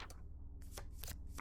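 Playing cards are shuffled close up in a few quick riffling bursts, a crisp papery flutter that is brief and fairly quiet with no talking.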